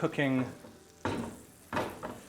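Grilled cheese sandwiches fry in butter in a pan, the sizzle swelling in two bursts as they are lifted and shifted, with a voice speaking briefly at the start.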